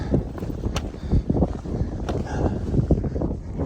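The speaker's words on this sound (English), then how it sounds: "Very windy." Strong, gusty wind buffets the microphone on a mountain climb on Mount Elgon. The roar is loud and continuous, with short rising gusts and no talk.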